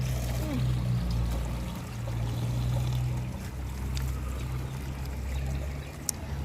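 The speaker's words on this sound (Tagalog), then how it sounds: "Ang lakas pa rin ng tubig." A strong stream of water pours steadily into a drum, a continuous rushing wash with a low hum underneath and faint voices in the background.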